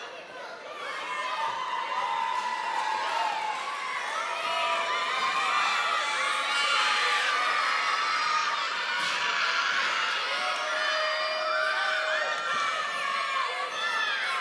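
A loud crowd cheers and shouts continuously at a free Warriors of Wrestling show, with whoops and children's voices rising and falling over a steady roar.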